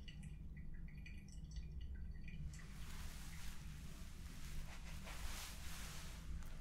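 Water poured over coffee grounds for a pour-over brew, a steady soft hiss and trickle that swells after the first seconds and runs on evenly, close and quiet.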